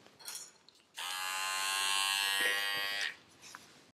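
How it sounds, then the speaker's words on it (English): A Wahl golden cordless hair detailer clipper buzzes on for about two seconds with a steady, close, high-pitched motor whine, then switches off, with faint handling noises before and after. "A golden cordless detailer."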